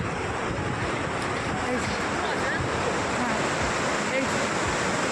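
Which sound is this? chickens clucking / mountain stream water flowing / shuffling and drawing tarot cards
mountain stream water flowing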